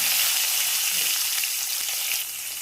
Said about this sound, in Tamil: கடுகு பொரிஞ்ச உடனே உடச்ச உளுந்து போட்டுக்கலாம்.